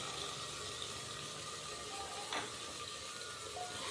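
Ginger, garlic and green chili paste with tomato paste sizzling in a pot, a dense steady hiss of frying throughout with a brief stirring scrape partway through.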